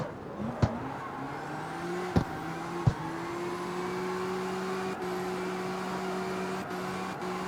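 A Mustang engine in the CarX Street driving game holds a steady, smooth mid-pitched drone that rises gently, punctuated by a few sharp clicks early on, close and alone without talk.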